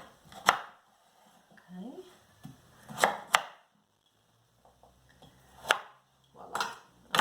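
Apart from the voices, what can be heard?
knife chopping carrots and sweet potatoes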